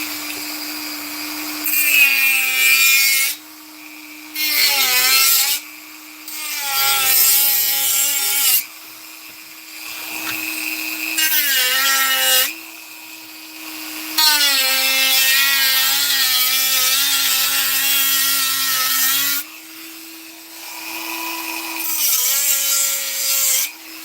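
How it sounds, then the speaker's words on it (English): A Dremel rotary tool whines loudly and close in repeated runs of a few seconds each, its pitch dipping and rising under load and stopping briefly between runs. "because it's Dremel time."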